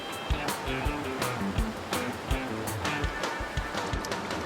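Strong river water rushes and churns over rocks on the Teshio River in Hokkaido during a canoe descent: a steady, loud broadband roar with splashing surges throughout.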